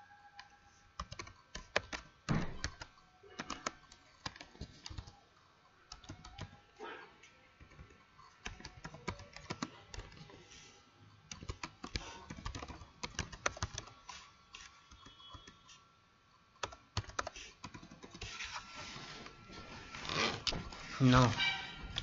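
Computer keyboard typing in bursts of quick clicks while entering text into a WordPress website editor, heard under someone speaking Hindi throughout.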